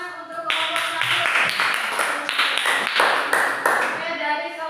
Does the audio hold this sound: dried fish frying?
no